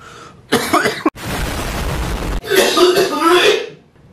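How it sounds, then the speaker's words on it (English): A young person coughs and clears their throat in a few harsh bursts, loud and close, with a longer rasping throat clear in the middle and a short gagging cough at the end. "I randomly gag for some reason if I start coughing"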